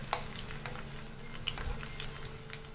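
Masala-coated fish pieces frying in cold-pressed sesame oil, a steady close sizzle with scattered small pops and crackles throughout, no talking.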